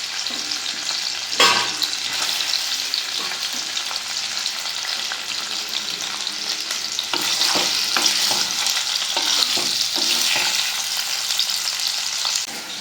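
Potatoes frying in hot oil in a pan, a continuous crackling sizzle with occasional sharp spits and stirring scrapes, close by and fairly quiet, no voices.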